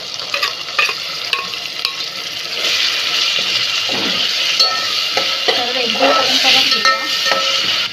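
Onion puree frying in hot oil for a veg biryani, a steady sizzle broken by scraping stirs and clinks of a spoon against the pan, close and continuous with no talk.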